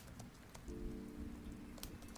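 A rain ambience track plays softly during a co-working session, a quiet, steady patter of raindrops over a faint low hum.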